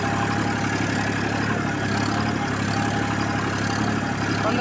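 Massey 241 DI tractor diesel engine running steadily at 1500 RPM while driving a nine-tine tiller, a continuous loud, even drone with a constant mechanical hum.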